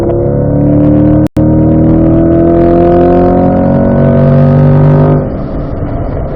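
A race car on a track drives hard with a loud, buzzing engine note that climbs through the revs, broken by a brief cut, then drops off sharply near the end as it brakes and shifts.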